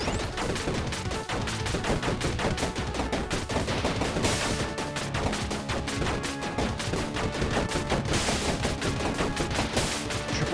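Double-bullet gunfire in the game Overpowered, Mars Infestation level: a rapid, unbroken stream of loud, evenly spaced shots over ten seconds, with crashing impacts mixed in and no speech.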